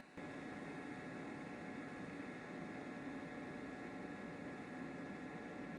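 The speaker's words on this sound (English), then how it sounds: "it looks like the water is finally boiling" An electric kettle heats water for tea and coffee at a campsite, run off a portable generator beside an SUV, giving a steady broadband rushing roar with a constant faint high whine, close and unbroken with no talk.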